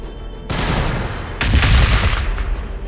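Frag launchers firing in the Warhammer 40k Battlesector video game, Blood Angels campaign: dense, loud crackling volleys of explosive fire that start abruptly and intensify midway, rolling on continuously.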